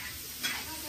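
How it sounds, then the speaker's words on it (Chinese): Food stir-fried in a wood-fired wok for a rural New Year pig-slaughter feast: a brief, close sizzle with a single spatula scrape. "炒菜。"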